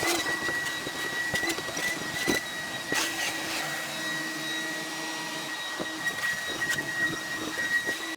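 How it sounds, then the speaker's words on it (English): A shop vacuum runs continuously while cleaning the inside of a Kenmore Whirlpool dryer, a steady close whine with a high tonal hum and occasional scraping shifts as the nozzle moves. "get the shop vac and clean this, clean up the insides here"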